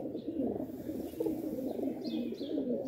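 Domestic pigeons, mostly hens with a few young birds, coo steadily on a home rooftop loft during wing clipping, a continuous low murmuring chorus close by with occasional higher fluttery calls.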